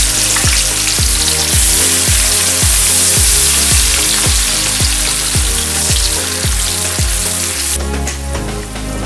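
Spice masala fries in hot oil in a kadhai for kadhai paneer, a loud, continuous crackling sizzle running the whole time under rhythmic background music.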